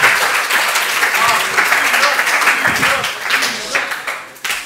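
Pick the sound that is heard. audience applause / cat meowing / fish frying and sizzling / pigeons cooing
audience applause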